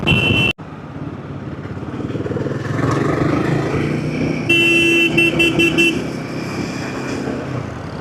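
Motorcycle riding over a bridge through Mumbai traffic: a steady engine drone with wind rush, a brief cutout near the start, then a car horn beeping in a quick series of toots midway, with no talk.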